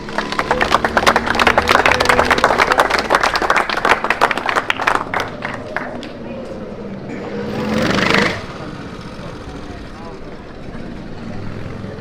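Lively applause for a kart racing team at an outdoor award ceremony after a turbo-kart race in Wohlen, dense rapid clapping for several seconds that thins and fades, with an announcer speaking and a brief whooshing swell near the end.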